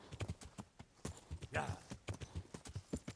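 Horse hooves clop in a steady rhythm while riding through the medieval countryside of the video game Kingdom Come: Deliverance, heard alone at moderate volume without any talk.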